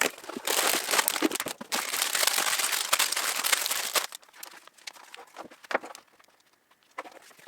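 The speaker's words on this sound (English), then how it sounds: "I think we'll open it a bit differently and just peel the whole back of it open" Cardboard on the back of a LEGO Hogwarts Castle Flying Lessons 76447 set box being peeled open, a loud sustained tearing and crinkling that gives way to scattered softer rustles and taps.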